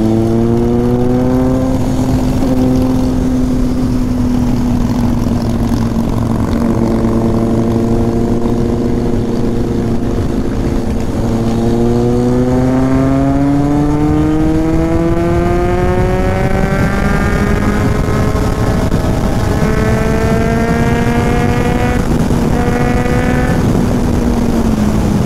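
Several motorcycles on a group Sunday ride, engines droning steadily and loud throughout with rising and falling pitch as riders shift and accelerate, no talk over it.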